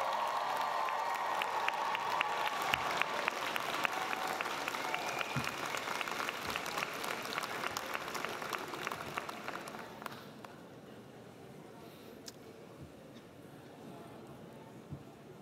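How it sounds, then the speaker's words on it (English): Graduates at a 2022 university commencement ceremony cheer and applaud their families and friends, a broad, fairly distant wash of clapping and cheers in a large hall that fades to quieter scattered claps toward the end. "I'd like our graduates to stand for a moment and cheer your"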